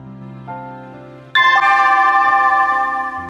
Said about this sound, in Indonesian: Bel istirahat udah bunyi.